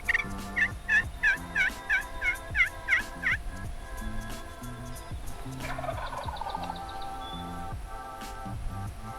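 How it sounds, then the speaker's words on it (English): A wild turkey in the woods gobbles in a rapid run of about eight calls over the first few seconds, then goes quiet while a fainter call drifts in later. "a turkey who was gobbling about 600 yards away for most of the late morning"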